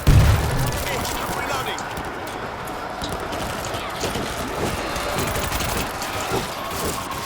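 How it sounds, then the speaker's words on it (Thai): Explosions and gunfire in World War Z, a co-op zombie shooter game, form a dense continuous crackle and rumble with a heavier boom at the start, loud and sustained throughout. "ระเบิด"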